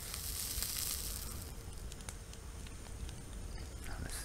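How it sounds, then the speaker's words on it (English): Food frying in the survival video game Mist Survival, a steady close crackling sizzle that runs through the whole stretch with no talk, loudest at the start and easing slightly before picking back up. "that's the frying sound that we're looking for"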